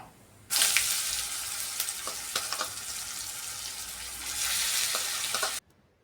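Crushed ginger, garlic and green chili paste sautéing in a pan for batata vada, a loud, close, broadband sizzle that bursts up suddenly, holds steady with small crackles and stirring, then cuts off.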